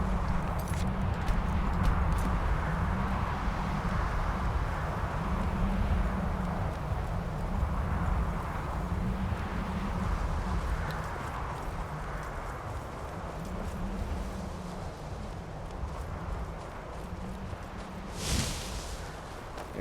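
Horse hooves clip-clop at a steady walking rhythm in Skyrim Special Edition, a modded survival-mode playthrough, close and continuous for the whole stretch and partly masked by a low rumbling ambient bed.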